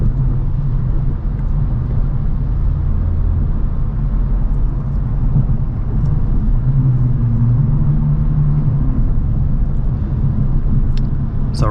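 Kia Stinger GT2 with a Borla active valve exhaust cruising at steady speed, giving a constant low, quiet rumble with road and cabin noise and no revving.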